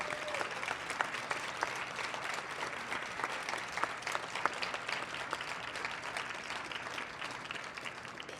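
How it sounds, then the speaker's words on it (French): Applause from the audience at a book fair inauguration, a quiet, steady patter of many hands clapping, somewhat distant and sustained for several seconds. "J'aimerais qu'on applaudisse Olivier et son équipe."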